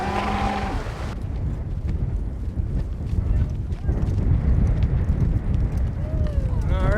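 Hooves of cow horses clip-clop through a steady outdoor rumble while riders push cattle on the historic Hunewill working cattle ranch, with a brief voice at the start.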